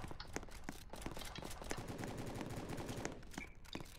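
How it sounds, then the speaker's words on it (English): Rapid gunfire in a Roblox prison-escape game: dense bursts of machine-gun-style shots crackle continuously and loudly, with sharp individual reports standing out through the barrage and no talk over it. "I hear the gunshots from this."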